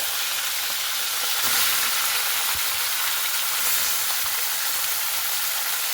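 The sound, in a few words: chicken frying in oil used for frying potatoes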